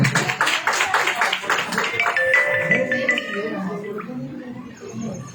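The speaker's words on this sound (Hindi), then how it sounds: "जोरदार तालियां ब्रदर आशीष की" Clapping from a church youth meeting audience welcoming Brother Ashish, a burst of rapid claps fading after about three seconds, with a voice talking over it and softer room sounds trailing.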